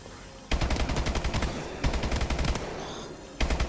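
Fast automatic gunfire in a video game zombies mode, from Advanced Warfare, blasts in three loud, close bursts of rapid evenly spaced shots separated by short gaps.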